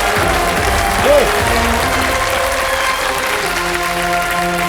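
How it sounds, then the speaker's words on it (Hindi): A studio audience on the quiz show Kaun Banega Crorepati applauds in a dense, loud, sustained wash of clapping, with a brief musical swell partway through. "तालियां बजती रहें इनके लिए।"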